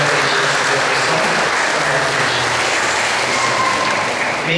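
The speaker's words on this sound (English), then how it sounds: "let us welcome them into the Christian community by clapping our hands" Congregation applauding at a church wedding ceremony, a sustained wash of many hands clapping together in a reverberant hall, steady and fairly loud throughout.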